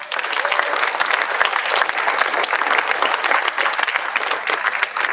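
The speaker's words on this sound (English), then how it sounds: "So give Admiral Theater applause, please." An audience at a banquet claps enthusiastically, a thick, sustained wash of applause with distinct individual claps poking through and faint crowd voices beneath.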